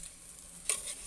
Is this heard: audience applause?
no